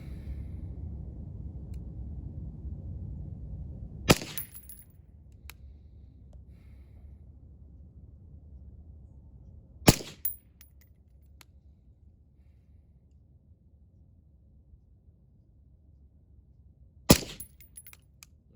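Three IWI X95 Tavor rifle shots fired while zeroing at a range, each a sharp loud crack with a short echo, spaced several seconds apart over quiet background.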